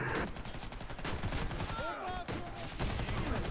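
Rapid gunfire and bursts from the online shooter Warface fill the stretch, dense and continuous, with a few short tonal effect sounds in the middle.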